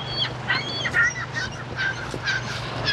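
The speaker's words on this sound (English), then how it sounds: "Seagulls are having a feast today." Seagulls call at Sauble Beach on a sunny outdoor shoreline. Several short squawks are scattered over steady background noise, some nearer and some farther off, with no speech.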